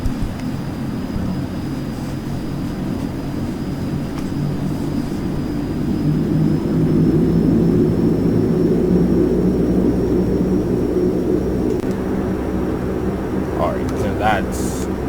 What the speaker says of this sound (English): once these engines are up to max RPMs